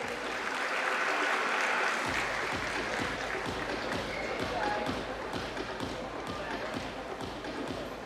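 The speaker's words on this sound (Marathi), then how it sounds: "या सर्व रनर अप साठी जोरदार टाळ्या व्हायला पाहिजे." A ceremony audience claps for the runners-up at an awards event in Maharashtra, a steady, loud wash of hand claps with a rhythmic beat running through the whole stretch, and a voice speaking over it.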